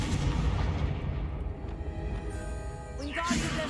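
Confringo fire spell explosion in the Hogwarts Legacy video game, a dense booming blast and rumbling burst of game effects filling the whole stretch, with a voice speaking over it.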